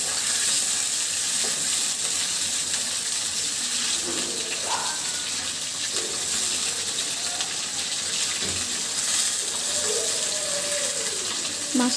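Fish frying in a pan for an iftar meal, a continuous loud sizzle with occasional scraping and pressing sounds, no voices.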